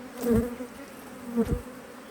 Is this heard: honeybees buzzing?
yes